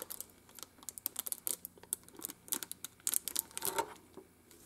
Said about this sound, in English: it's peeling this plastic slowly